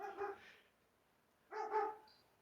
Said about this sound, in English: Our dog is barking.